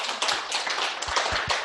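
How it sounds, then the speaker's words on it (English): An audience at an LGBTQ fertility education event in Manchester gives a short round of steady, dense applause for a panel, close and fairly loud throughout. "Let's just have a quick round of applause for our panel."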